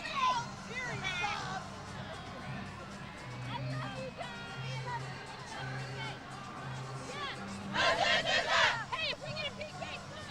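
A stadium crowd at a USA versus Mexico women's soccer friendly murmurs and chatters at a distance, swelling into a louder burst of cheering near the end, with a commentator talking over it.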